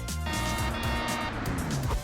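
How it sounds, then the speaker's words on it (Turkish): A small remote control toy car motor whines and revs up and down, close by, with rolling wheel noise as the little car zips around a park. "Uzaktan kumandalı bir araba."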